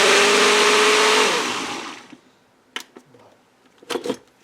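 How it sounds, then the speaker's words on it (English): A small kitchen blender pureeing potatoes and onions whirs loudly for over a second, then winds down and stops, followed by a few clicks and knocks in the quiet. "I'm going to take these potatoes and onions and I'm going to put them in my little blender here."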